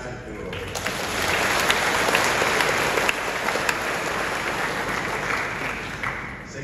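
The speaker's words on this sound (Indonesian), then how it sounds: "Tepuk tangan dulu." A church congregation at a parish Mass applauds in a broad, sustained wave that swells over the first second, holds steady, then eases slightly near the end, with scattered sharper claps standing out.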